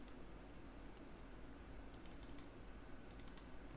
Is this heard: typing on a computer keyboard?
yes